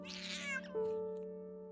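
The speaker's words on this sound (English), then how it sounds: "and Whiskers hissed in surprise" A cat gives a brief hissing burst that turns into a drawn-out, strained meow, close and alone over a soft sustained musical tone.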